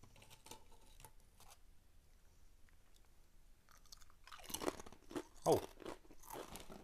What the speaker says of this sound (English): They are way crunchier than a normal Kettle chip.